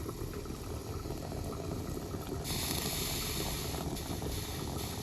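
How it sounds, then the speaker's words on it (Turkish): A tea kettle boiling on a stove: a steady, dense bubbling and hissing, like water at a rolling boil, with a brighter hiss rising partway through. "Şurada Çayımız da kaynadı."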